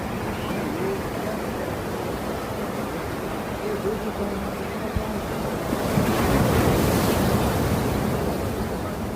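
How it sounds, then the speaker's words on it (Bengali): Arabian Sea waves crash on shoreline boulders, a continuous loud roar of surf with wind buffeting the microphone, swelling as a bigger wave breaks midway. "দেখুন এই স্রোতটা আসছে, দেখুন।"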